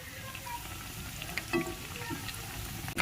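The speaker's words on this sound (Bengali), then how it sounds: "এখন একটু সময় নিয়ে হালকা আঁচে ভেজে নিতে হবে" Snacks frying in oil over low heat, a soft, steady sizzle and crackle with a few brief louder pops, fairly quiet and close, with no talking.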